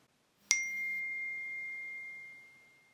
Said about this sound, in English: the sound you heard there was the text message coming in notifying the manager that there's a contract